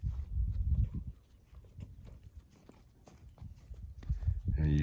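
A horse's hooves clop in an uneven walking rhythm while being led back toward a trailer during loading training, with a voice talking over parts of the steps.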